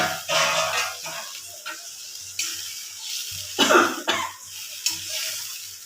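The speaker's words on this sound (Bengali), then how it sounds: "1 বাটির মতো জল আমি দিয়ে দিই।" A pan of hilsa fish curry with doi and posto sizzles and bubbles as a bowl of water is poured in, with intermittent stirring clatter and a brief cough-like noise between the hissing bursts.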